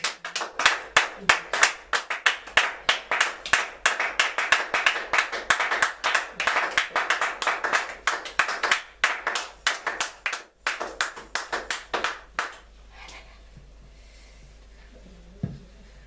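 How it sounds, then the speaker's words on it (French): A congregation at a church service claps loudly and steadily with dense, rapid handclaps for about twelve seconds, then stops abruptly, leaving quiet room tone and a single faint knock. "Acclamons très fort."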